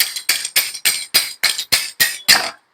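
A part of a mixer grinder is hammered apart with nine sharp, evenly spaced metallic blows struck in quick succession, loud and close, with no talking.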